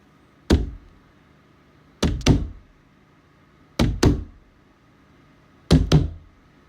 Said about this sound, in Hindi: होटल का दरवाजा बंद किया ही था कि अचानक 7 बार दस्तक हुई।